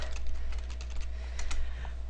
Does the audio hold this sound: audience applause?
no